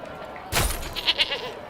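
Goats in the medieval village-building video game Manor Lords give a short bleat followed by a few fainter bleats, brief and close, without talking.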